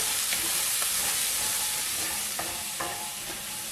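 Onions and garlic softening in a hot pan for a creamy salmon and spinach sauce, an even, loud hissing sizzle close by, with a few light clicks of a utensil stirring.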